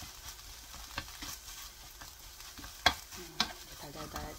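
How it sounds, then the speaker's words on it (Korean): Dried chwinamul greens being stir-fried in a pan over low heat, with a soft continuous sizzle and scraping, stirring strokes, plus a couple of sharper utensil clicks against the pan. "약불로 지금 달달달 볶고 있거든요"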